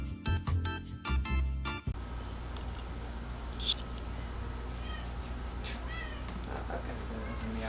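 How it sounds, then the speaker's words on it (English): A cat meows a few times in the background, faint and distant, while a music track with beat plays at first and then stops, leaving low room noise. "I guess there is a meow also"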